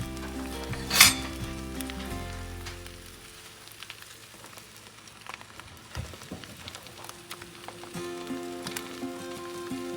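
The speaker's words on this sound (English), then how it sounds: "So we're going to allow it to fry." Bread sizzles steadily in a frying pan, with a loud metallic clink at the start and a few lighter utensil knocks and scrapes throughout, no one speaking.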